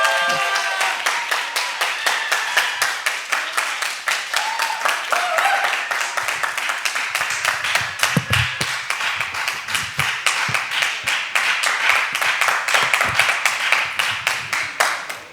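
A church congregation applauds at a retreat with rhythmic, unison clapping that keeps up steadily for about fifteen seconds. The crowd sounds fairly close and loud, and a few voices are faintly audible beneath the clapping.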